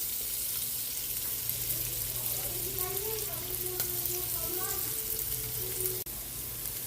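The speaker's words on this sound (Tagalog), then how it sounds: "Magigisa na po tayo para sa ating pork menudo, butter. Sabayin na natin yung bawang." Garlic sizzling in melted butter in a pan as the base for Filipino pork menudo, a steady close frying hiss with small pops and a faint tapping near the end.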